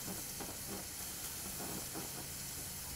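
Steady, continuous hiss of steam escaping from a pressure cooker after six whistles while cooking mutton kuruma, loud and unbroken with faint rumbling underneath, no voices.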